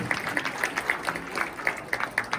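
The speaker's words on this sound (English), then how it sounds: "give this nice lady a round of applause" An audience at a Hall of Fame induction ceremony claps in a short burst, a moderate crowd heard from within the room.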